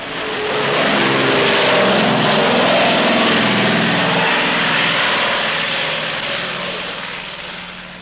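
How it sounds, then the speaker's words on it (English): A propeller airplane at a busy airstrip in Laos roars loudly and steadily, swelling up and then slowly fading over several seconds as it passes, with no voices. "this strip handles 900 takeoffs and landings each day"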